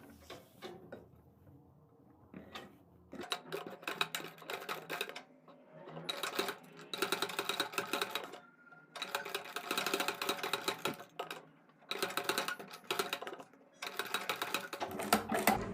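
A domestic sewing machine stitches a neck pattern onto a kurti, its rapid mechanical clatter running in several bursts separated by short pauses, close and fairly loud with no talking.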